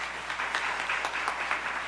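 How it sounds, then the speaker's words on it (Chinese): Church audience applauding university, high school and junior high students receiving awards at a Taiwanese-language worship service, a steady sustained clapping from a crowd, fairly close and even throughout. "请给我们热烈的掌声。"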